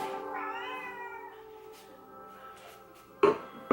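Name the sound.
cat meowing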